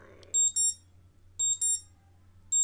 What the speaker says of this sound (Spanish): a la alarma del paso del tiempo.